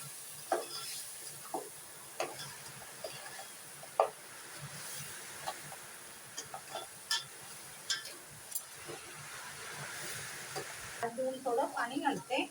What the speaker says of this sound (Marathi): खेकड्या ना फोडणीला देते, हे बघ. आणि हे सगळं मी आता फोडणीला देते,